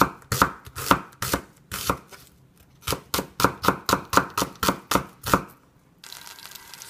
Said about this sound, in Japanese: 玉ねぎはこのようにしてスライスして炒めます。